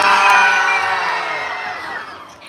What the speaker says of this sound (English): throw your arms in the air and scream as loud as you can